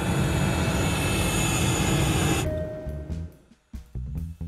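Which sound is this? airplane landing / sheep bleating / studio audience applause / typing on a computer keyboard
airplane landing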